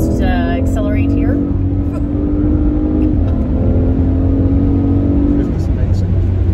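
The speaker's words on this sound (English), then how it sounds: "The acceleration is so incredible in this car." An electric SUV accelerating hard from a standstill in a 0-to-60 run, a rising whine sweeping upward and holding over road rumble, with people talking inside the cabin.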